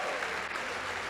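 A church congregation claps continuously in a dense, even burst of applause.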